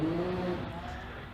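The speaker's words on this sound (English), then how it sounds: "He's just rounding semicircle now in the turbocharged 930 RS" Turbocharged Porsche 930 RS race car rounding a semicircle corner on a sprint course, a loud engine note that holds steady and then fades slightly as it moves through the bend.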